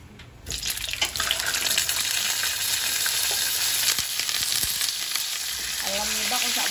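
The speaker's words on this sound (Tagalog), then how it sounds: "Siyempre nilagay ko na ng salt tong ating yellow pin bago natin iprito." Salted yellowfin fish frying in very hot cooking oil, a loud steady crackling sizzle that bursts in after a quiet start and continues unbroken, with scattered pops and spits.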